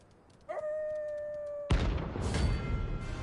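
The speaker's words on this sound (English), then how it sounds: "Okay, what the heck are these butt ugly dogs?" In the video game Final Fantasy XVI, one long steady dog howl sounds clearly, followed abruptly by a loud, rough burst of noise that continues to the end.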